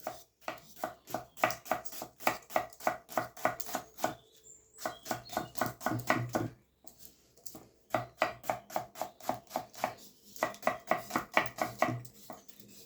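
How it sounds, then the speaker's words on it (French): A knife chops halved onions into rings on a board, a quick, even run of crisp taps close by, broken by two short pauses. "Allez, on va les couper en rondelles."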